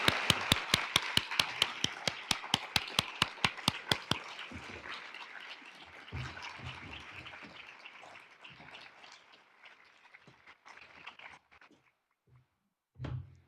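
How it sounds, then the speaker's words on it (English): Rhythmic, evenly spaced clapping at an education talk welcoming a speaker, loud and regular for about four seconds, then scattered softer applause trails off into quiet with a few faint rustles and one late thump. "Join me in giving a round of applause for Nikole Hannah-Jones."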